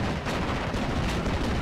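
An HS-129 aircraft cannon fires in the Steel Division: Normandy 44 video game, giving a dense, continuous roar of rapid shots and blasts that fill the whole moment with no talking.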